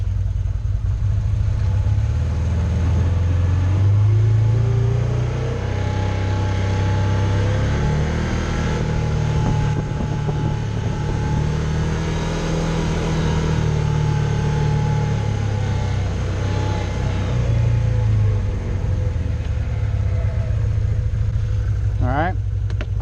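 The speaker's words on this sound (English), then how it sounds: "I went ahead and put it in low. I'm in two-wheel drive, and I'm just going to accelerate forward" A Can-Am Commander XT 800R belt-driven UTV accelerating forward in low gear and two-wheel drive, its engine droning steadily and close, with a voice talking over it.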